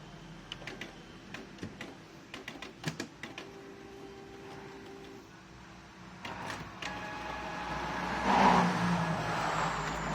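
A Canon MP280 inkjet printer runs a print head cleaning cycle: a series of sharp ticks and clicks, then a quieter pause, then a whirring motor that builds into a louder mechanical grind, heard close with no speech.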